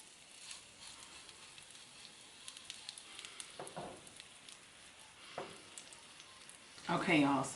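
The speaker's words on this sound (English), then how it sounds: "while my burger is frying up" A burger sizzles and crackles steadily in a hot frying pan, with occasional scraping, and a louder burst of sizzling near the end; a voice appears briefly.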